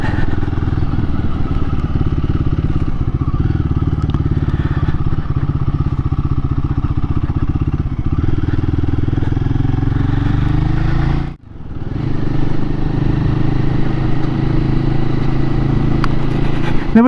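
A Royal Enfield 450 Guerrilla motorcycle on the move gives a continuous, close engine drone with a brief dip as the throttle closes around a gear change, then pulls steadily again.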